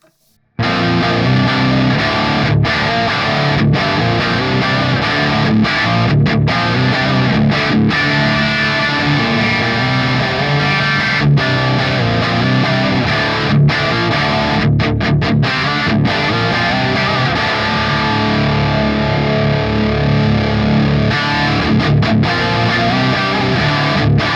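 Electric guitar played through an amp in a vintage voicing, distorted chords and riffs ringing steadily for the whole stretch with a few brief stops.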